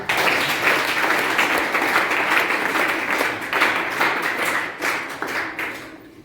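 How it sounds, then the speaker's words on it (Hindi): Loud, dense applause from an audience, steady for about six seconds before thinning slightly at the end, with no talking over it. "एक बार जोरदार तालियां"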